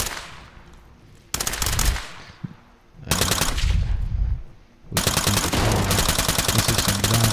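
Bursts of rapid automatic gunfire from a zombie video game, loud and close, coming in three long volleys separated by short pauses, the last one sustained.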